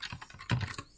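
Fingers typing a command on a computer keyboard, a quick close run of soft key clicks in an uneven rhythm, with one heavier keystroke midway, alone without talk.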